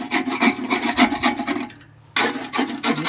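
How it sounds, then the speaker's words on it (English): Debris being scraped out on a farm, repeated close rasping strokes in a quick steady rhythm, broken by a short pause before the scraping resumes, with no talking. "I scrape all this out of here"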